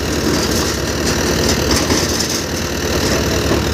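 A Multi Malwa thresher driven from the PTO of a Powertrac Euro 55 tractor runs steadily and loudly, a dense continuous mechanical roar with engine drone underneath, no voices.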